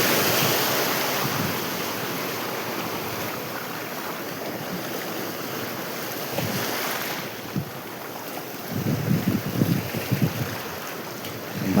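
Stormy wind buffets the microphone while sea waves wash and surge along the shore, a loud continuous roar with heavier gusts and wave crashes toward the end.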